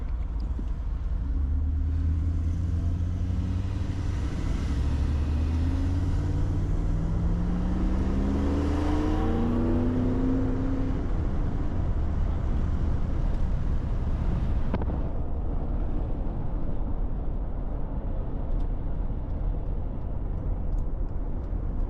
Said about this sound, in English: With that muffler off, it kind of reminds me of a muscle car.